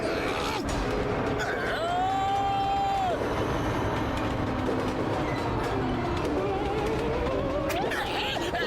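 A cartoon train rolls past with a continuous mechanical rumble, rattling and creaking, plus a few drawn-out tonal squeals over the top, all at a steady level.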